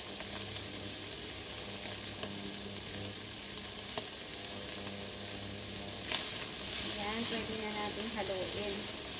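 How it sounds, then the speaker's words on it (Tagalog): Shrimp frying in a pan sizzle loudly and continuously, a steady close crackling hiss with occasional sharp pops and a brief stir toward the end. "Hindi ko siya hinahalo kaagad para maprito yung kabila."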